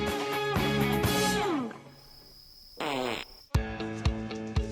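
Repeated loud farts in quick succession, a long sputtering one followed by a brief pause, another rising burst, then several short sharp ones, close and clear with no talk.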